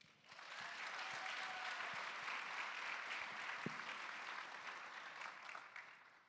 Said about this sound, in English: Let's give a quick round of applause for the Las Vegas Academy of the Arts String Quartet